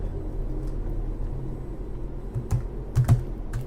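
Typing on a computer keyboard: a handful of sharp clicks cluster near the end over a low steady background hum, with no speech.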